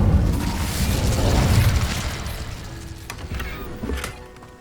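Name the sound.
Incendio fire spell in video game Hogwarts Legacy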